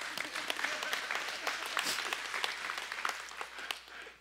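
Church congregation clapping during a worship service, a steady broadband patter of many hands held at moderate level for several seconds without speech.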